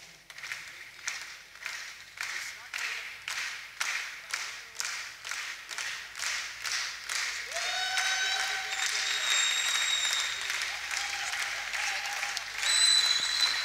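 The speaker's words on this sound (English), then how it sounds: "The audience is cheering." An audience at a 10 m air rifle mixed team final at an ISSF World Cup in Egypt claps in rhythmic bursts, then breaks into sustained loud applause and cheering, with whistles rising over the crowd.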